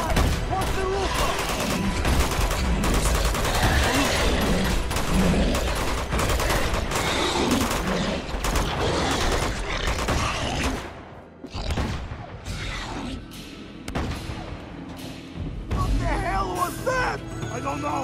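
Dense video game gunfire from Uncharted 2: Among Thieves, with bursts of shots and loud booms in a firefight under a game soundtrack and shouting voices, thinning into sparser cracks and thuds near the end.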